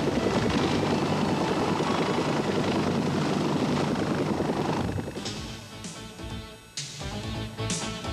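Large helicopter operating on the broad deck of a Chung Ho class tank landing ship, a dense steady rotor and engine roar that thins after several seconds into lighter chopping with intermittent gusts.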